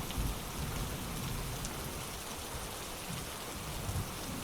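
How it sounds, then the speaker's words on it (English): Steady rain patters against high tower windows, a soft, even hiss with scattered drops and faint low rumbles beneath, continuous and calm with no voices. "The sound of rain came first, soft, hesitant, as though the sky were still deciding whether to weep or to sigh"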